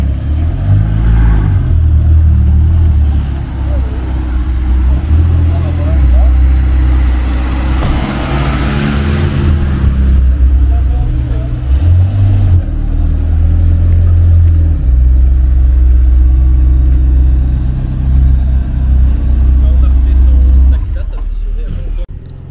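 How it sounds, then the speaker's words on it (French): A car engine idles and rumbles steadily while the car parks beside a motorbike at a morning car meet, with a deep continuous drone and people talking nearby throughout. "il se gare à côté de la bonne moto"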